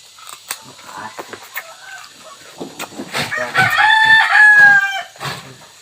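A rooster crows loudly and nearby in a rural mountain farmyard, its drawn-out calls rising over clucking chickens, with a few scattered sharp knocks and faint background voices.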